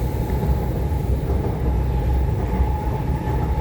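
An SMRT R151 train running on Singapore's North South Line, a loud steady low rumble with a constant whine from inside the moving carriage, no voices.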